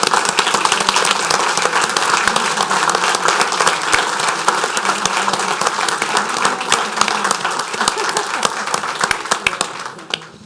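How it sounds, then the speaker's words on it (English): Sustained applause from the audience at a St. Tammany Parish Council meeting, dense steady clapping filling the room with crisp individual claps audible throughout, fading slightly at the end. "I'm going to stand up and give you a round of applause"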